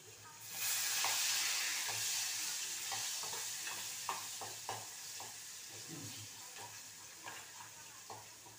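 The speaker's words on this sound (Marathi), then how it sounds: "आता आपला लसूण लालसर झालाय" Garlic frying in tempering oil in a pan until reddish, with a steady sizzle and occasional stirring clicks and scrapes throughout.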